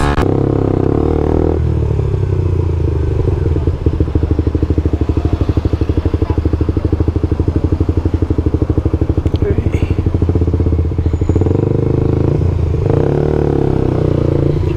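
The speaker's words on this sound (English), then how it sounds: "That was close, scraping my wheel." A 125cc motorcycle engine runs loud and close with a steady rapid throbbing, a rev rising and falling near the end, and a brief scrape of the wheel mixed into the engine noise; a voice talks over it.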